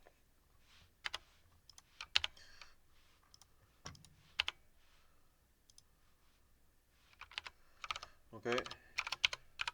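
Button presses on a calculator while entering a list of statistics data, quiet irregular clicks and taps in short bursts, with a brief spoken word.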